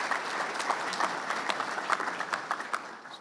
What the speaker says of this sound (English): give them a round of applause over there